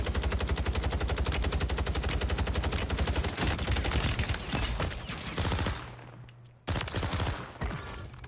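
Rapid bursts of Renetti pistol fire in Call of Duty, loud and close, a dense stream of repeated shots with a brief pause near the end before firing resumes.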